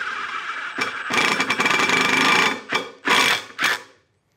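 A Milwaukee Shockwave Red Helix titanium half-inch drill bit bores through metal in several loud bursts, one long grinding run of about a second and a half followed by shorter spurts, then stops.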